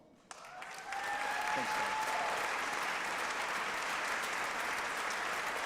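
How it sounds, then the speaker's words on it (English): An audience at the Rhode Island governor's State of the State address breaks into full applause after a brief spoken thanks, then keeps up a broad, steady roar of clapping from a large room. "Give them a round of applause"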